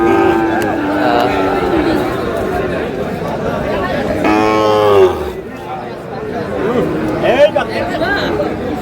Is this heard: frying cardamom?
no